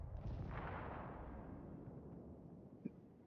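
Booming naval gunfire in a World of Warships match, a heavy rumbling blast that swells and rolls out over three seconds, followed by a single sharp distant crack near the end.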